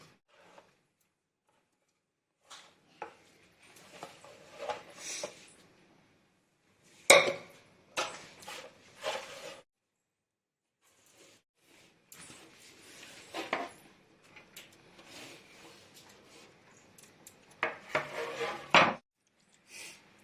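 Amaranth greens, onion, tomatoes, green chillies and tamarind being put into a pressure cooker: scattered clinks, clatters and knocks of vessels and utensils in short bursts, separated by silence.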